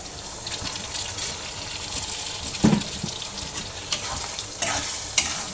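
Chopped dried fish (shutki) fries in oil over cooked-down spices, giving a steady close sizzle with occasional scraping and stirring knocks, and no one speaking.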